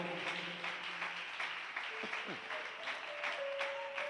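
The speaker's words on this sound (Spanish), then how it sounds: "Si ese aplauso es para el Señor, déselo fuerte, porque es para el Rey de la Gloria." Church congregation applauding during a worship service, a steady wash of clapping with sustained voices and tones ringing over it, fairly faint and distant.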